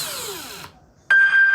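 A cordless drill driver whirs loud and close, then winds down with a falling pitch. After a brief near-silent pause it kicks back in with a steady, high whine. No one speaks.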